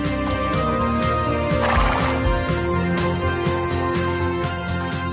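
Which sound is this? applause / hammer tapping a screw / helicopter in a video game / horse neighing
horse neighing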